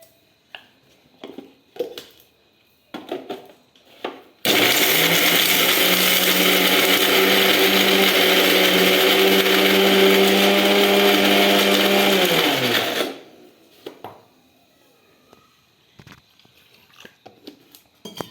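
A mixer grinder whirs loudly and steadily for about eight seconds, blending ingredients with cumin and salt, beginning and stopping abruptly, with quiet handling clatter before and after.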